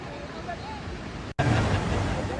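Rushing floodwater from the overflowing Santo Cristo Dam in Pampanga, a loud continuous roar with wind buffeting the microphone, briefly cut by a short gap, with a voice speaking over it.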